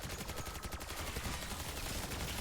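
Automatic LMG fire in Black Ops 6 Zombies, a steady rapid stream of shots hammering on for a couple of seconds, loud and close with no voices.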